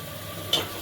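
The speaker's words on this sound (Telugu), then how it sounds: "ఆనియన్స్ వెల్లుల్లి బాగా వేగాక జీలకర్ర వేసుకోవాలి." Onions and garlic frying in oil for an Andhra drumstick-leaf dal tempering give a brief, steady, quiet sizzle, with one short stirring scrape partway through.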